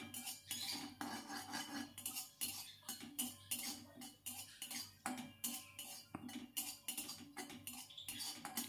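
Radhuni seeds being dry-roasted in a wok over low flame, heard as a busy, close run of metallic scraping and clinking as a spatula stirs them against the pan, steady and fairly quiet, with no talk.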